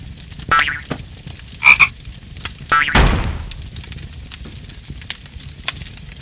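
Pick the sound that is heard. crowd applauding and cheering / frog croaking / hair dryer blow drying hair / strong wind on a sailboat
frog croaking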